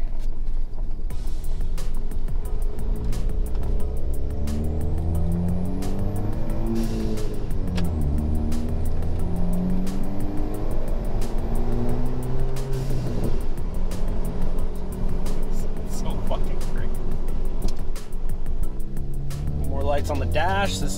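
A rebuilt, previously wrecked Ford Fiesta ST is driven around the block from inside the cabin, its engine rising and falling through gear changes and revs, with talk over the steady road rumble.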